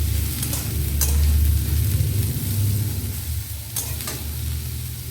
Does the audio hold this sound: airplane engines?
no